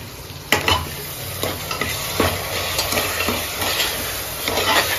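Ginger garlic paste sizzling in a hot pan while a spoon scrapes and stirs it, with regular sharp scraping strokes over a steady frying hiss, close up and without talk.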